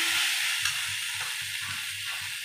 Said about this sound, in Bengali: দিয়ে এবার আমি নাড়াচাড়া করতেই থাকবো